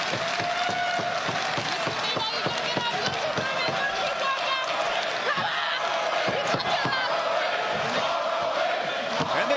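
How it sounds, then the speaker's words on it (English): Sold-out wrestling crowd at the Esports Arena during Supercard of Honor 2025, a dense roar of voices rising into a rhythmic chant, with scattered slams and thuds from the ring cutting through the steady crowd noise. "the chant of ROH from this sold-out crowd"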